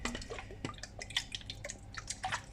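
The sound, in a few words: drops of lemon juice dripping into milk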